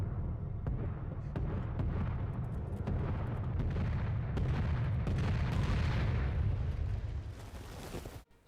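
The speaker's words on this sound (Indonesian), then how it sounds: "datang pasukan udara Jerman yang menghujani mereka dengan bom hingga menewaskan beberapa tentara" Bombs dropped by German aircraft explode in a wartime battle scene from the film Dunkirk, a sustained loud roar of blasts and rumbling debris that rolls on for several seconds before cutting off abruptly.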